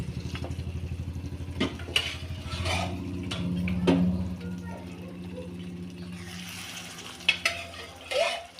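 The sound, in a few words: frying and stirring mutton pieces in masala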